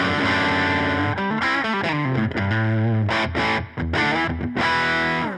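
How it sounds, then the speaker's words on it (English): An electric guitar runs through a tweed-style amp-in-a-box pedal on its lower gain setting, playing loud, saturated chords and riffs with short choppy breaks and no talk. "Just love that tweed sound."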